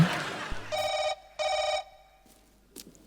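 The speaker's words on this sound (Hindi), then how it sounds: "अपना फोन आ रहा है।" A telephone rings in a comedy sketch on a stage set, two clear electronic trills with a gap between them, loud and close, followed by faint shuffling.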